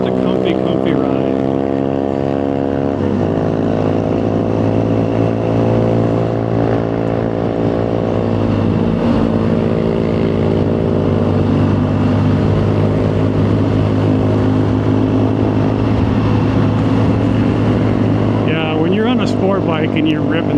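A 2011 BMW GS1200 motorcycle rides along a winding street at speed, its engine a loud steady drone with rising and falling pitch as it shifts gears, under wind noise.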